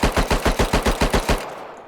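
A Tier 1 SMG in the survival game Rust fires a rapid burst of about ten evenly spaced, loud, punchy shots, then cuts to a brief quiet tail.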